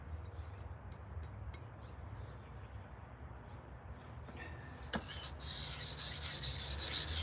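Knife stroked across a 6000 grit whetstone, a steady close rasping scrape that gets louder and brighter toward the end, with faint clicks early on.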